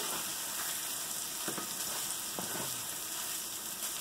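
Mushrooms and onions fry in butter in a pan, turning golden: a steady, hissing sizzle with a couple of soft stirring scrapes, close but fairly quiet.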